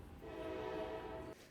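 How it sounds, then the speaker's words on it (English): A passing train outside sounds one long, steady horn blast lasting over a second, faint and distant, then cutting off abruptly. "I now have to apologize for the train."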